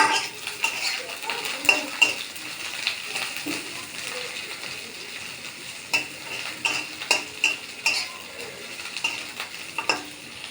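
Onions frying in a pan for chow mein, a soft sizzle under repeated sharp clinks and scrapes of a utensil stirring against the pan.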